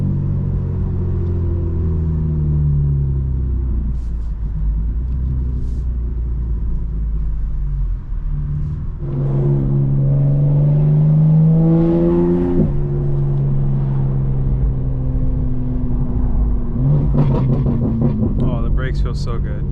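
A tuned 2025 BMW M4 Competition revving under throttle, heard from inside as a deep engine rumble that surges and climbs in pitch, with someone talking over it throughout.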